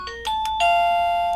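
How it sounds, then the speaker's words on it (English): A doorbell chimes with a few quick bright tones, ending in a sustained ringing note, loud and close with no voices. "Regular doorbell."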